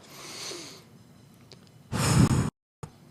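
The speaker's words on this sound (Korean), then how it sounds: "숨을 쉬어서 먼저 깊이 들이마시고 내쉬고" A preacher demonstrates a deep breath: a soft, drawn-out inhale, a pause, then a loud, forceful exhale close to the microphone, cut off abruptly, with no speech.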